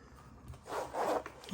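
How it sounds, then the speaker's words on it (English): A zipper closes on a leather writer's bank bag from Galen Leather, a short, quiet rasping pull in two quick strokes up close. "then it zips up"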